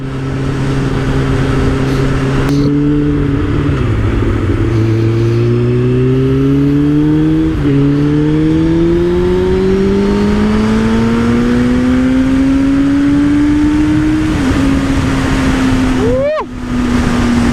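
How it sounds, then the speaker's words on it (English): A 1998 Suzuki Bandit 600N motorcycle engine revs loudly and close, its pitch climbing through several gear changes before one final sharp rev, with a voice briefly audible over it. "Listen to that engine roar."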